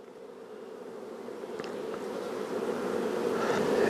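Honey bees buzz steadily around an open hive during a spring inspection, with crowds of young bees on capped brood. The close, continuous hum swells gradually louder, and no one speaks.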